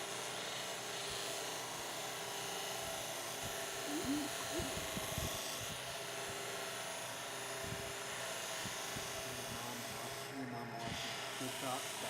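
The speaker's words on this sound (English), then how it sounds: "I'm buffing right now." Wood-turned piece being buffed on a lathe, a steady whirring drone running throughout with soft rubbing and scuffing, under occasional background talk.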